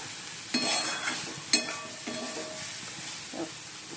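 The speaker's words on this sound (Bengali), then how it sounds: "এইগুলো পটলগুলো ভাজছি" Pointed gourd (potol) frying in a pan, a continuous sizzle broken by a few sharp stirring scrapes and pops close to the listener, with no talk.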